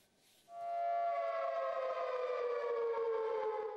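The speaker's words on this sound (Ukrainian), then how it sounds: "Ця сирена сигналізує абсолютний провал кліматичного саміту в Глазго." A siren sounded by climate activists at the Glasgow climate summit rises after a brief quiet start into a loud, sustained, wailing tone that holds steady and echoes slightly.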